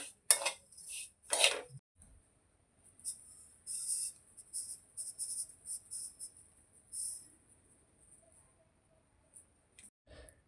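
Roasted semolina is scraped from a pan onto a plate, with a few sharp metallic clinks and scrapes of a spoon against metal, then lighter intermittent scraping and tapping, close and otherwise quiet.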